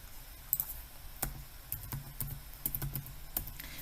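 Someone types on a computer keyboard during a patient records search. Irregular quiet key clicks come in bursts, close up over a faint room hum, with no talk.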